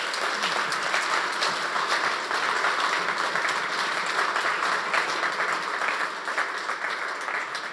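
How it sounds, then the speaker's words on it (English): An audience applauds Nate Robertson at a Startup Grind Wichita talk, with steady, dense clapping that lasts the whole stretch and fades slightly at the end. "Let's give Nate a round of applause"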